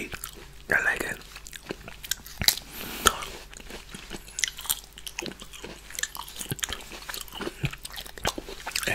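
Rambutan fruit being bitten and chewed close to the mic, with soft crunchy, wet mouth sounds repeating throughout at low volume, and quiet whispered speech in places.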